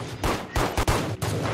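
Bursts of automatic gunfire in a shooter video game, four loud close volleys with short gaps between them, no talking.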